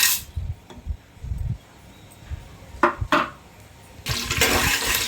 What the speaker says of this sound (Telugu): ఇదైతే పాత్ర వేడెక్కింది ఇందులో ఆయిల్ వేసాను చెక్క లవంగం యాలక్కాయలు బిర్యానీ ఆకు జాపత్రి ఇవన్నీ అనమాట ఇవన్నీ ఇందులో వేస్తున్నాను